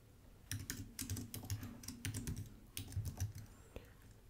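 Code is typed on a computer keyboard in quick bursts of close, crisp keystrokes, with short pauses between groups of taps and a quiet background.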